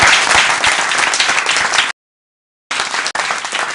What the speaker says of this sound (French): Je vous demande de l'applaudir très fort, Al Coriana.